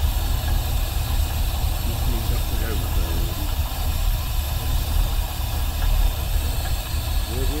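A Rover P6 V8 automatic engine idles at about 600 RPM with a steady low rumble and hiss, running evenly throughout at close range.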